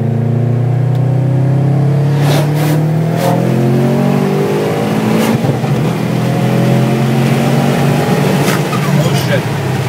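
A 2011 Perrin Subaru STI pulls hard through third and fourth gear, its loud engine note rising with a clear shift between gears, heard from inside the car with some talk.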